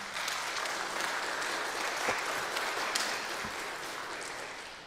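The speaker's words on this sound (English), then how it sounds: "Let's give them a round of applause and thank them." An audience at a church lecture on Lutherans in Rome claps in sustained, dense applause that gradually tapers off, with no talking over it.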